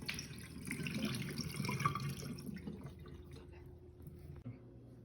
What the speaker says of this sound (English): I'm going to drain mine in the sink.